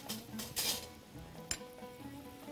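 Onion frying in a pan with nutmeg and ground cardamom, a soft sizzle under scattered clinks and scrapes of a utensil stirring against the pan, with a couple of sharper knocks.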